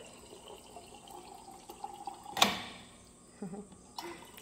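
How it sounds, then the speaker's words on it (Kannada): Water is poured from a jug into a jar of fenugreek seeds, a faint, quiet trickle with one sharp splash or clink partway through and a brief soft spill after it. "ಇವಾಗ ಇದಕ್ಕೆ ವಾಟರ್ ಆ್ಯಡ್ ಮಾಡಿಬಿಡ್ತಾ ಇದ್ದೀನಿ"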